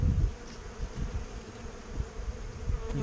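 Honey bees buzz steadily around an apiary hive during spring work, a close, continuous low drone with small swells in loudness and no voices.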